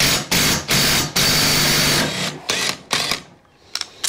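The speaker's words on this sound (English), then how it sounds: "So we'll go ahead and take out this gear here." Metal gear sliding off a shaft inside a Honda CRF250R engine during a full motor rebuild, heard as a series of close mechanical clicks and clacks in sharp bursts with short pauses between them, no talking.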